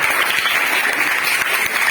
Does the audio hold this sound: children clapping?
yes